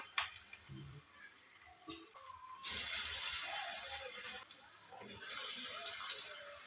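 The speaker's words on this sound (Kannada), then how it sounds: "ಕಾದಂತ ಎಣ್ಣೆಗೆ ಇದನ್ನ ಹಾಕೊಳ್ಳೋಣ ನೋಡಿ." Potato balls dropped into hot oil set off a broad, steady sizzle that swells suddenly after a quieter start and keeps crackling at close range.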